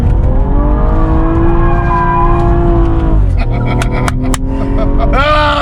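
BMW M135i six-cylinder engine accelerating hard on a track, a loud close harmonic roar climbing in pitch through the gears, dropping at a shift and rising again, with voices talking over it.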